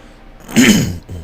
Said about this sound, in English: I need to clear my throat.